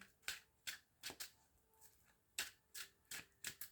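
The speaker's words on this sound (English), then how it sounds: "Let me reshuffle." A tarot deck is reshuffled by hand in a quiet room, producing a series of crisp, close riffling card snaps in uneven bursts, with no talking.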